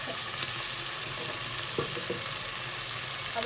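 Chicken pieces for a wedding-style degi chicken pulao fry in a pot until light golden, a steady close sizzle running the whole time with a few soft stirring clinks and no talk.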